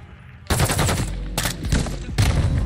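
Bursts of automatic gunfire in Call of Duty Modern Warfare II, loud and close, with rapid rattling volleys separated by brief pauses.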